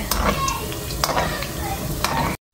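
Spring rolls frying in hot oil in a home kitchen, a steady close crackling sizzle with occasional sharper pops, continuous for about two seconds before a brief cut to silence.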